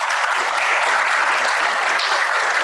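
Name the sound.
students applauding a diplomat's lecture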